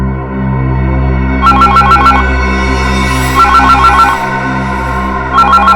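A telephone rings in three short electronic bursts of rapid trilling tones over a steady low hum, loud and alone without any voices.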